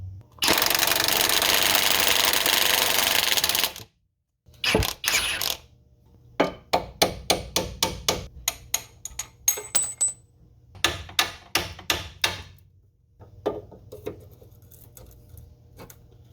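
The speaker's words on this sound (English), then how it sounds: "Go ahead and take that pinch bolt out." A socket wrench removes a pinch bolt on a 2007-2012 Ford Escape front lower control arm: a loud burst of noise, then a quick run of ratchet clicks in bursts, close by, with no talking.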